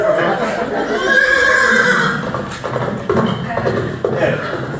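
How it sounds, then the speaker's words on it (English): Horse neighing in a pantomime stage show, a clear drawn-out whinny up close followed by shorter snorts and rustling sounds. "Right then, horse. Get your lazy carcass over here, or it's the glue factory for you."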